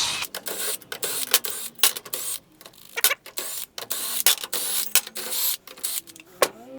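An impact wrench zaps bolts off a car differential during an OS Giken 1.5-way limited-slip differential upgrade, giving repeated short whirring bursts separated by brief pauses.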